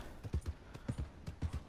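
A horse's hooves clip-clop on the ground in a steady, trotting rhythm of paired beats in Red Dead Redemption 2, moderately close and fairly quiet, with no talk.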